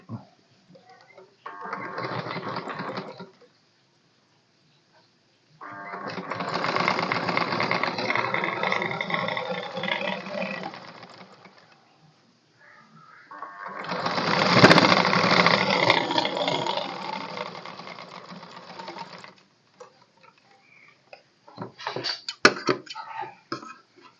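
A sewing machine runs in three sustained bursts, separated by pauses, while stitching a waistband onto a back piece. A brief start-and-stop comes near the end.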